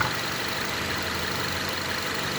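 A car engine idles steadily with a constant, even rumble and no breaks or changes in pitch, with no noises of concern.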